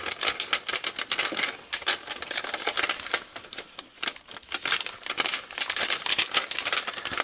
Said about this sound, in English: let's actually take the wrapping off of this guy